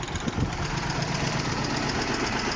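A small Japanese mini tractor engine idles at about 800 rpm, a steady close chugging rumble with no voices.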